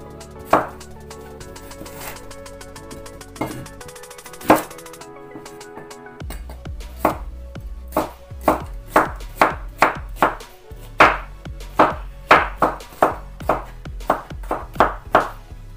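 Knife chopping cucumber on a cutting board for a salad: a few scattered cuts, then a quick steady rhythm of crisp, close knocks on the board with no talking.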